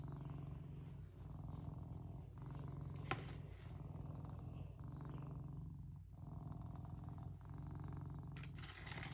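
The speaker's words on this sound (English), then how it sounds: "He'll sit here and purr and lay in the sink." A cat lying in a sink purrs softly and steadily, with a slow, regular in-and-out rhythm that carries on throughout with no talking.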